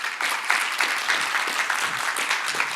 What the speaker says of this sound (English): Ask her to give Rebecca a big round of applause.